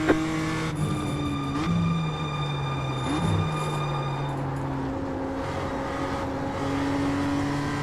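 A BMW M2 race car engine at Lime Rock Park in the iRacing video game, a steady tonal drone whose pitch drops on downshifts and then climbs again, heard alone and close.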